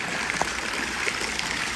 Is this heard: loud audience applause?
no